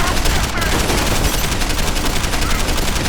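Gunfire in Deus Ex: Human Revolution, loud dense rapid-fire shots in a continuous burst that fills the clip.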